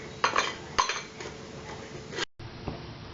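Roasted rice flour being scraped from a pan into a bowl, with a few sharp metal-on-metal clinks and scrapes of a spoon, close and fairly quiet.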